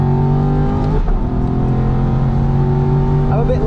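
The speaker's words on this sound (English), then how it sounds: "Enjoy the torque of the big V8." An Aston Martin V8 Vantage pulls hard on a track lap, its big V8 droning loudly and steadily with one brief dip as the revs keep climbing, heard from onboard.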